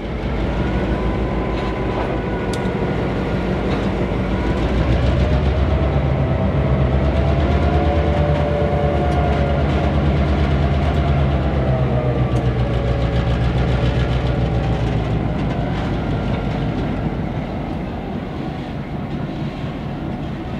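EMD SD7 and SD9 diesel locomotives on the Portland & Western rumble past loud and close, a steady heavy engine drone with rail noise and shifting tones throughout, no talking.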